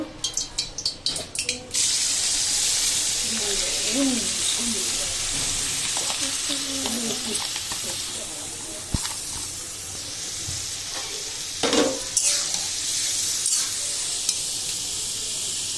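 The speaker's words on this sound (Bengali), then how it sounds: "প্রথমে এই যে পেঁয়াজ কুচিটা দিয়ে দিব" Chopped onion for biryani goes into a pan with a few clattering knocks, then sizzles and hisses steadily while being stirred, with occasional scrapes and taps over the frying.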